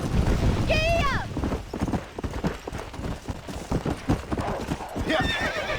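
Horses galloping in Red Dead Redemption, rapid hoofbeats pounding throughout with a whinny at the start and another near the end, loud and close over the game soundscape.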